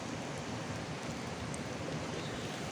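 Rain falls by the upper Cisadane river in Bogor, a steady, even hiss of broadband noise at moderate level with no voices.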